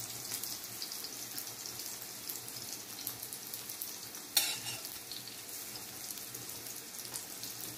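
Fish balls fry in hot oil with a constant, faint crackling sizzle, broken once by a brief sharper pop or clink midway; no voices are heard.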